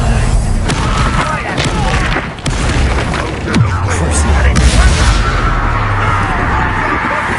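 A Bombarda blasting spell detonates in the Hogwarts Legacy video game, loud booming explosions and crashes over game music, with a voice shouting and others calling out around the blasts.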